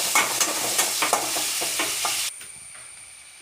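Onion, crushed ginger and garlic fry in a pan with steady sizzling and rhythmic scraping stirs for a chickpea curry, then the stirring stops and only a faint hiss remains.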